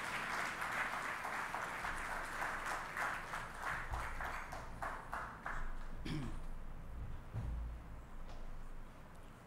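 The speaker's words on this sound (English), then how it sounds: "Let's give him a round of applause as he mounts the podium." An audience at a university inaugural lecture applauds as the lecturer mounts the podium, a sustained wash of many hands clapping that tapers off, with a few louder thumps and a brief voice near the end.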